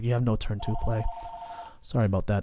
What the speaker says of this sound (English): That was the phone. Hope that didn't scare anyone.